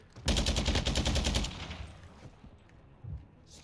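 Rapid automatic gunfire in Modern Warfare 2 beta multiplayer, a loud, evenly spaced burst of a dozen or so shots lasting over a second, then fading into game ambience with a single dull thud afterward.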